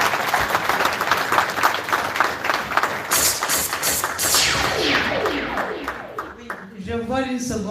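An audience at a prize ceremony for democracy and peace applauds, a dense wash of clapping that carries on for several seconds and gradually thins out while a voice speaks over it.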